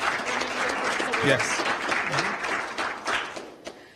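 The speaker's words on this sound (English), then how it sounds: "So give a round of applause to Mr." Audience applause at an Urban League annual meeting, a steady patter of many hands clapping for about four seconds, with a voice speaking over it before it thins out.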